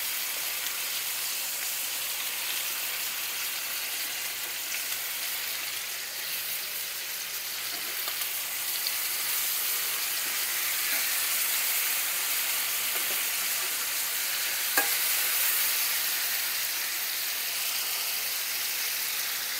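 Seasoned sausage browns in a hot frying pan with a steady bright sizzle and hiss. It runs continuously for about twenty seconds, with faint occasional pops and no talking.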